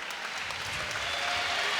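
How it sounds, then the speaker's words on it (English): Spectators at a college volleyball match between Villanova and Creighton applaud a player jogging off during a substitution, steady moderate clapping filling the arena throughout. "Applause for Madeline Cole as she jogs off"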